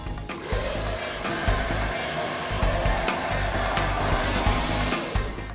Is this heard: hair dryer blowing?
yes